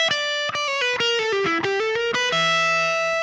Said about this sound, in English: So let's go from this little legato lick.